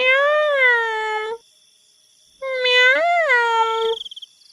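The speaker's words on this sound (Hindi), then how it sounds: "इतने में बिल्ली फिर भूतिया रूप लेकर नेहा को आवाज लगाती है" A cartoon cat lets out two long, drawn-out, wavering meows separated by a pause of silence, loud and close, the second call rising and falling before trailing off into a few quick fading pulses.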